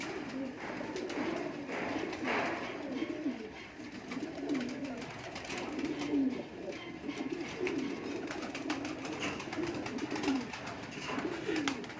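A breeder pair of pigeons coos close by in soft, low, repeated throaty phrases, with faint background noise throughout.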